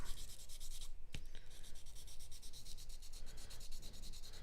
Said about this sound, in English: With the sandpaper on that one. So just do it real quick with that.